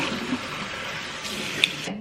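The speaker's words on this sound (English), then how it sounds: "let's rinse our face." Water runs and splashes briefly at a bathroom sink while a face is rinsed, a soft, close, steady wash of water with a small splash near the end.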